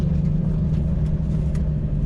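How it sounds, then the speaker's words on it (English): A Porsche GT2 RS engine idles with a deep, earthy, metallic throb, a steady low rumble that holds close and loud throughout with no talk over it. "so immediately it's got a real earthy, deep, metallic, throaty throb to it, far more actually than the GT3 Touring"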